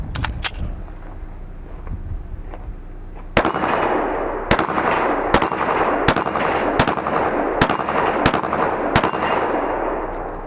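Glock pistol with a ported slide and barrel firing hot +P+ rounds outdoors: a few early shots, then about ten loud sharp reports in a steady, evenly spaced string, with no talk.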